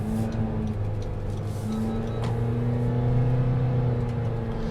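2019 Honda Odyssey V6 minivan accelerates at full throttle from inside the cabin, its engine drone rising steadily in pitch over several seconds with a constant road hum underneath and no talking.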